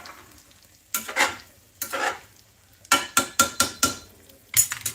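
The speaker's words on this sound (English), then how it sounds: "I move my egg in and let it cook." An egg cooking in a skillet for a machaca dish with shredded beef and vegetables, heard as a series of close scraping stirs over a low sizzle, with loud bursts spaced irregularly and several quick strokes in a row near the end.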